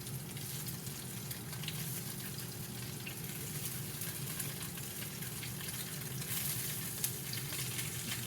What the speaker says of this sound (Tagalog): Ayan na guys, naprito na yung mga tofu.